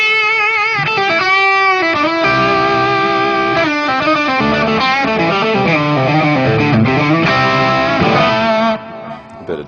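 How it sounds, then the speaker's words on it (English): Overdriven electric guitar run through a TC Electronic Nova System processor with a touch of delay, played loud and continuous with sustained chords and melodic lines, cutting off abruptly near the end. "this one's an overdrive I came up with, a little bit more gain than the one on the other"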